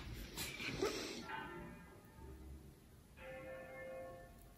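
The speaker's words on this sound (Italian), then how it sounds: "Ho sentito suonare le campane." Church bells tolling in the distance, heard from a home kitchen in Liguria; a few resonant strokes ring out and hang in the air, faint and far off against quiet room tone.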